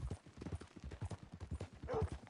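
Horse hooves clip-clopping at a steady walking rhythm in the video game Red Dead Redemption 2, a close, even stream of soft thuds with no speech over it.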